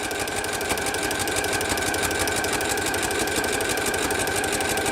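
Sewing machine fitted with a walking foot running a straight line of quilting stitches, a fast, even mechanical chatter that stays steady and close with no pauses.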